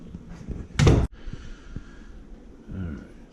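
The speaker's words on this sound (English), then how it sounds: "Is it alright if I close this door?" A household door swung shut during a gas dryer installation, one loud close thud followed by quieter shuffling and handling noises nearby.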